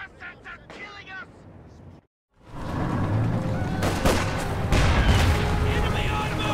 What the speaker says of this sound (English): Fire incoming! The bastards are killing us!